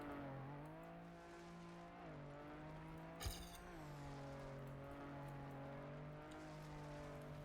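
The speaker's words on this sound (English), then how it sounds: "Why is there a rally car?" A rally car in a video game: its engine drones steadily with rising and falling revs, and a sharp tire squeal cuts in briefly midway. The engine stays fairly faint, with no voices.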